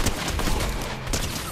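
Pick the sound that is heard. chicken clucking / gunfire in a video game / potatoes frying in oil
gunfire in a video game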